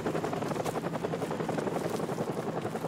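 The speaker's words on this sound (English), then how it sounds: "Goddamn helicopter." Steady rotor thrum of a helicopter in Call of Duty: Modern Warfare Remastered, loud and close, holding a constant pulsing drone throughout with no talk over it.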